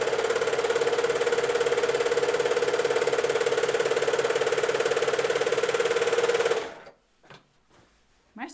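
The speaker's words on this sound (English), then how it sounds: "My serger is so loud." A loud serger sewing machine runs steadily at close range for about six and a half seconds with a fast mechanical whirring rattle and a constant hum, then stops abruptly, leaving near silence and a few faint knocks.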